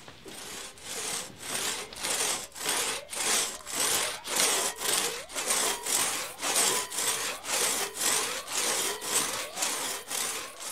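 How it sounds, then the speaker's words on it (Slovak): A hand saw cuts through wood in a village setting, with regular back-and-forth strokes, roughly two per second, rasping loudly and close, without any talk. "Píle sa vám nesmie krkvať."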